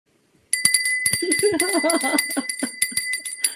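A small hand bell is rung repeatedly and rapidly, with bright sustained metallic tones and a steady series of strikes, while someone talks over it close by.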